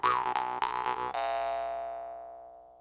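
Time Travel jaw harp twanged up close in a few quick, wobbling plucks. The last pluck rings on with a long, steady drone that slowly fades, with no talking.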